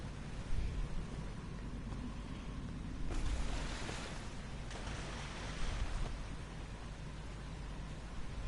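Steady broadband rush of falling water from a waterfall in a sci-fi exploration video game, constant and enveloping with a couple of brief swells in intensity, no voices.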